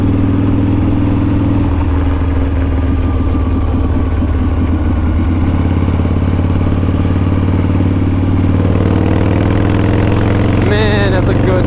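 A custom-built 2016 motorcycle with an S&S shovelhead engine idles loud and close in a steady, lumpy loping rhythm with mechanical clatter, the pitch shifting slightly partway through.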